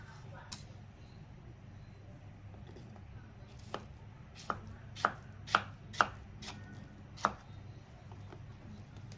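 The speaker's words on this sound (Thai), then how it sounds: "ใช้มีด ตัดเป็นชิ้น" A knife slices a cantaloupe melon into pieces, giving a run of about eight sharp, quiet taps against the cutting board, spaced unevenly and growing crisper midway.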